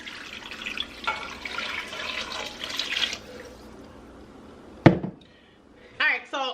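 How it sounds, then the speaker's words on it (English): Water pours steadily into a cooking pot of black-eyed peas and jowl bacon for about three seconds, followed by a sharp knock and a few quieter clinks. "I'm just going to add 4 cups of water"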